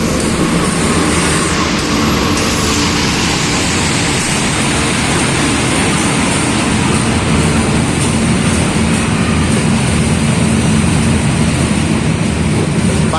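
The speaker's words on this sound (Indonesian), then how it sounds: "jalur 1 masuk kereta api Pandalungan dengan tujuan akhir ke stasiun" Pandalungan passenger train bound for Gambir pulling into track 1 at a station, a loud, steady broadband rumble and rolling roar sustained throughout with no talking.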